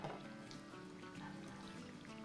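Lemon juice poured over cooked potatoes in a pan, a faint, soft trickling splash that continues briefly and quietly, with no talking.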